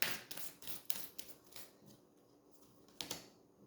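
Tarot cards being shuffled, a quick series of crisp riffling flicks close by, busiest at the start, then a quieter stretch and one final flurry.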